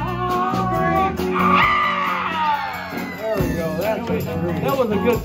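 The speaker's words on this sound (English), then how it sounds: "That was a good scream." Several people let out loud, wavering screams and whoops over a dense mix of crowd noise and nearby voices.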